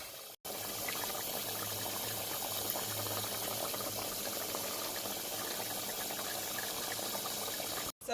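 Jamaican-style brown stew beef simmers and cooks down in a pot, a steady close bubbling and sizzling hiss that runs unbroken for several seconds.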